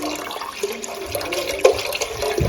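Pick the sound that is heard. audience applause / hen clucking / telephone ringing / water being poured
water being poured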